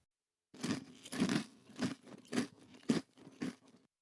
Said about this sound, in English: That's the sound of Cinnamon Toast Crunch telling us it's crunch time